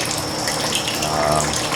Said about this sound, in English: water comes out there quite good, and it's another way of putting a little bit of oxygen into your water